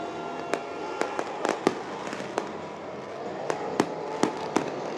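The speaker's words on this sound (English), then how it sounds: "Big fireworks display as we do each and every week." A fireworks display at Eagle Raceway during a sprint car race night bursts in a series of sharp, irregular cracks and booms, with about a dozen distinct pops over a steady background hiss.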